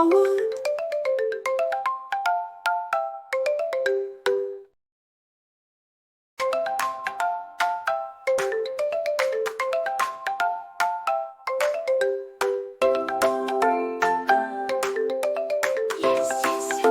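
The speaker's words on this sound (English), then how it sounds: "Come, go ring the bell." Doorbell in a children's song, bright electronic chiming melody repeating in quick runs, loud and close, broken by a short silence before the chimes return.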